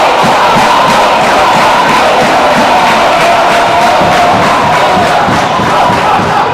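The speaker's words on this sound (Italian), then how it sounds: "Dedichiamo qualche istante ancora una volta ai tifosi sugli spalti che stanno animando ed allietando l'evento in questione" A large crowd of football supporters roars and chants steadily from the stands, a dense, loud wall of cheering that holds without a break.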